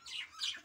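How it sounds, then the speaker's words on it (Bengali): Two quick, high squawks from baby birds on a cold winter morning follow one another in a short pair, faint and close by, with no other sounds around them. "এই যে পাখির বাচ্চাগুলো"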